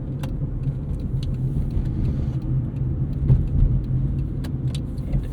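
A 2004 Honda Civic Hybrid driving through a roundabout, heard from inside as a steady low engine and road rumble with faint ticks and rattles, continuous and close, no talk.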